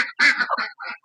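Duck quacking at feeding time: a quick run of several short, nasal quacks, close and clear, with brief gaps between calls.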